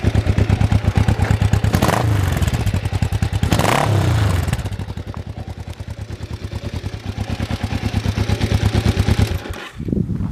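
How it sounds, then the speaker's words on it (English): A 1990 Kawasaki EN 500 / LTD 454 cruiser motorcycle with Harley-Davidson exhausts idles with a loud, throbbing pulse, blipped up in two quick revs before settling back to a lumpy idle. "A little rev for you there"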